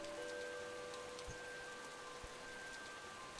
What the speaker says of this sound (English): the rain tap danced on the roof and ran down the windows